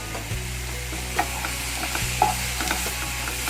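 Mushroom and baby corn gravy with a squeeze of lemon juice stirred lightly in a pan, giving a soft continuous sizzle with a few clinks and scrapes of the spoon, near and without talk.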